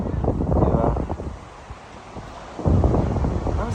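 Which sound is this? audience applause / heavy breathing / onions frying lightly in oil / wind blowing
wind blowing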